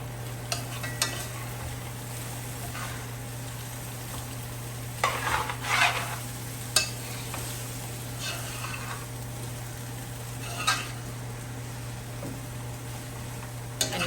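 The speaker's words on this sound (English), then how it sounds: "Then I'm going to add some shallot." Shallot stirred and frying in a pan over medium heat while cooking a 4th of July menu, a steady low crackle with a few louder bursts of scraping and stirring, close and alone without talk.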